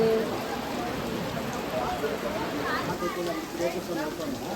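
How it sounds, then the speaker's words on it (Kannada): Heavy rain pours outdoors as a steady, dense hiss that fills the whole stretch, with people talking over the downpour throughout. "ನೋಡಿ ಮಳೆ ಎಷ್ಟು ಜೋರು ಮಳೆ"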